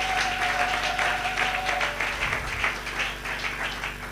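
A church congregation applauds at a Christian gathering, sustained mixed clapping filling the whole stretch at steady loudness, with no clear speech over it.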